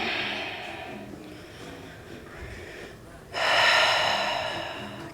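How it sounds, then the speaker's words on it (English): Deep yoga breathing: a series of slow, airy inhales and exhales close to the mic, ending in one long, louder exhale that carries to the end. "Take 3 breaths."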